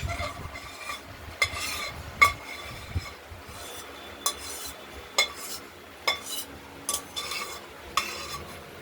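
A vegetarian curry of pumpkin, long beans and taro being scooped from the pot onto a plate, with quiet scraping and a series of distinct metallic clinks of spoon on pot at irregular intervals; no talking.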